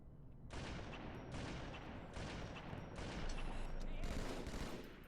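Rapid automatic gunfire in the Halo 2 level Outskirts as enemies are shot, several sustained bursts rattling back to back at steady loudness with short gaps between.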